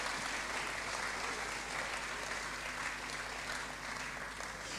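A conference audience claps steadily in dense, sustained applause with a lively crowd texture, loud and even throughout with no pauses.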